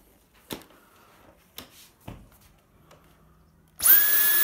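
A Dyson V10 cordless vacuum cleaner switches on near the end, starting abruptly and running loud and steady with a high whine, after a few scattered clicks and handling knocks.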